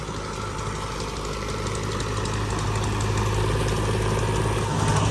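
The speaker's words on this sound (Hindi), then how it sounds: "और सामने चल रहा हो जी ट्रैक्टर" A tractor engine runs steadily in a village in the morning, a continuous low mechanical drone with a faint knocking rhythm, fairly close and unbroken throughout.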